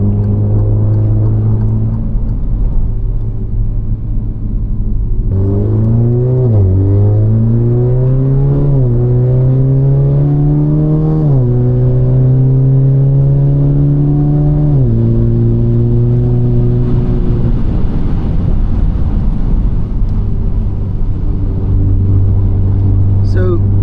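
An Alfa Romeo Giulia 2.0T with a big turbo, in race mode, revs close up, its engine note climbing and dropping through several gear changes before settling into a steady drone.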